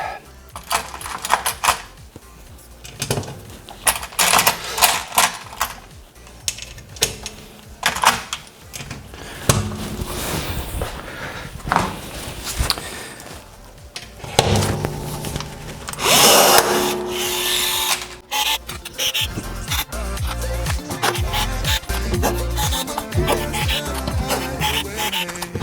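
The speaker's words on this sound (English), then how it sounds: "We put the rivets in." Rivets being set into the cockpit of an Ultima RS kit car, a run of sharp, irregular tool bursts and metallic clicks close by, with brief pauses and some handling clatter between them.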